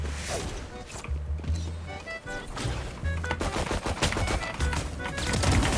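Phantom rifle fire in the shooter game Valorant, rapid bursts of crisp gunshots that continue across the whole stretch and grow denser toward the end, mixed with game sounds and no clear talk.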